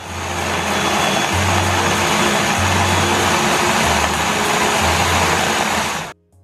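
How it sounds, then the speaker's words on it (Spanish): A blender whirs loudly while blending tomatoes, cilantro and onion for salsa, a steady roaring motor hum with pulsing changes in pitch, close, before it abruptly stops near the end. "vamos a licuar los tomates, le vamos a poner cilantro y también le vamos a agregar cebolla"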